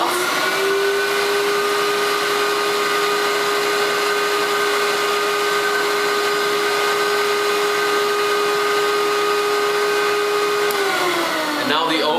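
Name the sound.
Nitty Gritty record cleaning machine vacuuming a vinyl record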